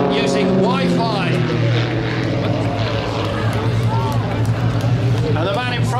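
Aerobatic propeller aeroplane in a formation display team flying at the Scottish International Airshow, a steady loud engine drone running throughout under continuous commentary and crowd murmur.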